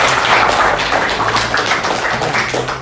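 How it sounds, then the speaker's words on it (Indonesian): A group claps loudly and close by during a practical linen-changing class, a thick, steady burst of hand clapping that continues throughout without talk. "tepuk tangan dulu untuk Rista."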